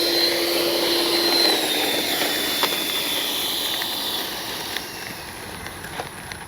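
An FMS 64mm F-16 Thunderbird RC jet runs its ducted fan motor, a loud, close, steady rushing whine with high whistling tones that eases slightly toward the end, with a few faint ticks.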